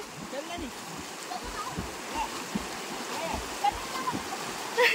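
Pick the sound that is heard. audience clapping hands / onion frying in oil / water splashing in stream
water splashing in stream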